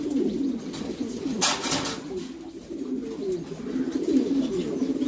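Several Lahore pigeons coo continuously in low, rolling murmurs, close and fairly loud, with a brief flutter of wings partway through.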